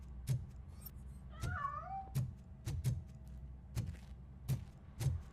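In the RoboCop: Rogue City video game, a hidden cat lets out a short rising-and-falling meow amid a regular series of heavy, evenly spaced thudding footsteps.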